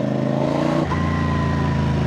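A 450 CLC motorcycle exhaust idling with a steady, loud low rumble, with a brief dip and shift in tone partway through as the engine note changes.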